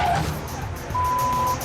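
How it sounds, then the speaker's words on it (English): A lorry rumbles past very close to a car on a narrow road, a heavy near engine roar with a rising whoosh as it passes, and a steady tonal beep in the background. "That lorry's very close."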